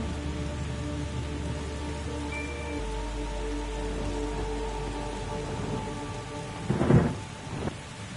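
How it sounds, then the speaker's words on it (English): Rain falls steadily in the video game The Gardens Between, a continuous hiss over a low game hum, then a rolling thunder rumble swells briefly near the end, with no talking. "Okay, the thunder is vibrating right there."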